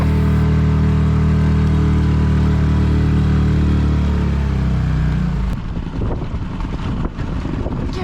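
A small Honda outboard motor on a dinghy drones loudly and steadily, then its pitch drops away into rough, gusty wind and water noise.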